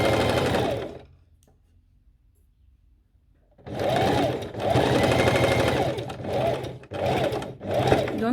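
A sewing machine stitches with contrasting thread, running in loud close mechanical bursts that stop for a quiet pause, then resume in several long runs separated by brief gaps, with a short reverse to lock the stitch.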